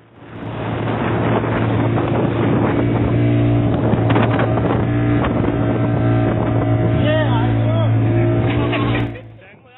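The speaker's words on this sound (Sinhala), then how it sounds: "මේ තින්නේ අපි වගේම රස්සාවට යන පොඩි බෝට්ටුවක්" A small working boat at sea, heard as a steady, loud, low engine drone with strong harmonic hum and wind buffeting that runs for the full stretch before cutting off near the end.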